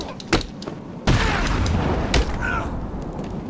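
Gunfire in Batman Arkham City, a few sharp, loud shots with a heavy boom after a quieter stretch, followed by rumbling action noise in the game.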